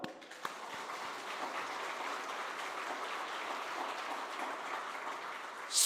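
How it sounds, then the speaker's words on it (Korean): Church congregation applause during a Korean testimony service comes through faint and distant, a soft, continuous patter of many hands that holds steady for several seconds before a louder burst at the very end. "이것도 박수."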